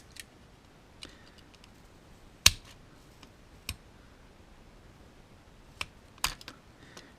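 A knife cuts excess plastic from a Redcat Blackout RC car part, giving a few sharp, close clicks and snaps spread through an otherwise quiet stretch.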